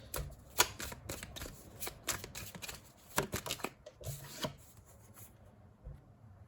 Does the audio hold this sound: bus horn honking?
no